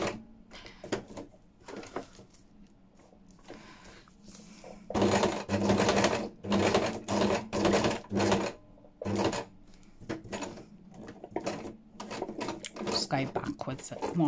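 A sewing machine stitches fabric for a junk journal cover embellishment, running in several loud rapid bursts separated by brief pauses, with quieter handling clatter and occasional talk around them.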